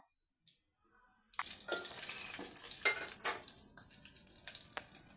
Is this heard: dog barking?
no